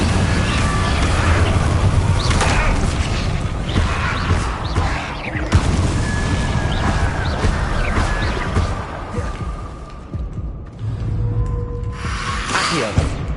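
Fire spell bursts being cast in Hogwarts Legacy on PS5, a dense run of whooshing, crackling magic blasts and impacts that keeps up loud and busy throughout, with brief lulls near the end.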